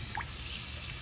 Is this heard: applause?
no